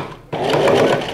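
A sewing machine stitches a dress shirt collar, starting abruptly into a steady, close, whirring mechanical drone that holds for about a second.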